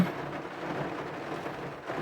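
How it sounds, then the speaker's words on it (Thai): Heavy rain driven by strong wind on a dark, stormy day pours down as a dense, steady roaring hiss, loud and continuous with no voices. "ฝนตกคักเน้พี่น้องนี่"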